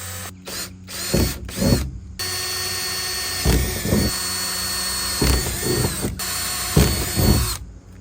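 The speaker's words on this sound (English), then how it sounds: "we marked the 4 holes, and we're going to drill them out real fast" A power drill whirs in several short bursts, close by, drilling holes for a 30 amp shore power inlet in a van, with brief pauses and mechanical clatter between runs.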